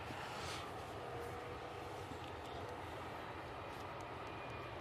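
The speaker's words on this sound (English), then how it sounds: "Next departure. Oh, it's a biz jet." A business jet departing, its broad steady engine roar filling the clip at a constant loudness with no voices over it.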